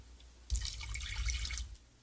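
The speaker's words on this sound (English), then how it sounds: "Just a splash of water." A splash of water is poured into a pan of spices with vanilla, clove powder and a cinnamon stick, giving a short, fairly faint burst of liquid splashing and bubbling that lasts about a second with no voices.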